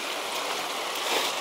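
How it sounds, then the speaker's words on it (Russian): Rushing water pours continuously, a broad steady hiss like a cascade tumbling over rocks, heard at moderate distance without voices; the third cascade of a waterfall at Toila, Estonia, near the Baltic Sea. "Вот он последний, третий этот каскад водопада."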